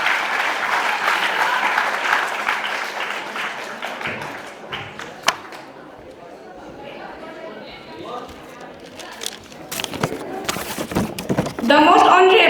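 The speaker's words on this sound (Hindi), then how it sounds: "ऐमन के लिए ताली." An audience claps for a student at a class 10 school farewell programme, a burst of applause over chatter that fades into scattered claps, taps and voices.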